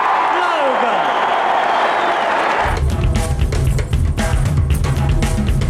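A crowd at a UK wrestling show applauds and cheers for wrestlers Mick McManus and Steve Logan, loud clapping breaking out partway through after an announcer's voice.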